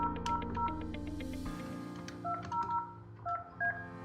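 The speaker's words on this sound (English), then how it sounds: "I will dial in to this handset here" Series of short beeping key tones from dialing on a Yealink T58A desk phone handset, quiet and close, each press a brief clean beep in uneven rhythm, with no talking.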